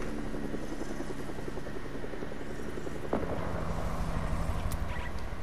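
A helicopter in the Fortnite video game thrums faintly in the distance as a steady rotor drone with light wind-like noise, punctuated by a brief sharp game effect.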